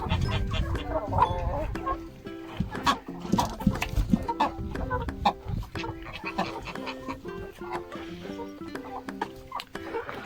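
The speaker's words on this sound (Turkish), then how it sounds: "Yeni yeni ötmeye başladı horoz." A rooster crows amid a busy farmyard of clucking hens and other fowl, layered calls overlapping continuously at moderate distance.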